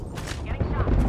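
A sniper shot cracks out in Apex Legends as a short, sharp gunfire burst amid continuous game noise and voices.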